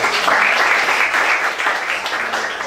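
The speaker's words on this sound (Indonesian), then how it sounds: "Tepuk tangan untuk kita semua" Applause from an audience at a school presentation at SMAN 30 Jakarta Pusat, a loud, dense wash of clapping filling the room steadily and easing slightly toward the end, with no talk over it.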